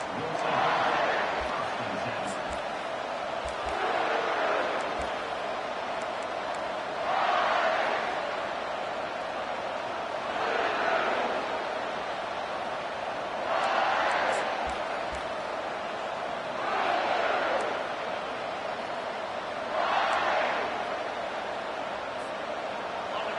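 A football stadium crowd at a college game between Kentucky and Syracuse roars in repeated swelling waves, a broad, steady cheer that rises and falls every few seconds.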